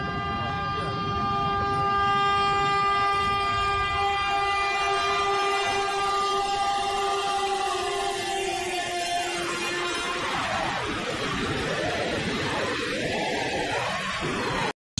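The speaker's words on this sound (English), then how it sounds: "the train approaches" A train horn blares in long sustained tones while the rumble of the approaching train grows, then wheels and cars roar past up close.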